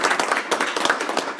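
A small audience at a school board meeting claps for a newly recommended elementary school principal, a short burst of scattered, close hand claps with uneven rhythm.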